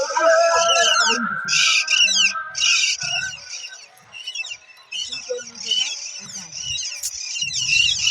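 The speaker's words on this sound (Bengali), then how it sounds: "কত পাখি," A flock of birds chirps and calls in quick, bright bursts around a rooftop balcony at Mukutmonipur in Purulia, loud and close at times, while people talk underneath.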